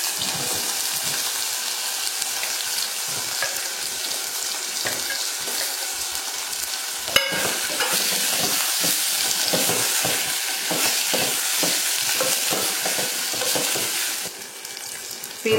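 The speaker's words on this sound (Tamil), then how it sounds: "இங்க கிழங்கையும் போட்டு வதக்கிக்கலாம்." Boiled, peeled and chopped elephant foot yam sautéed in hot oil for a Chettinad tamarind curry, a steady close sizzle with repeated stirring scrapes and a louder clatter midway.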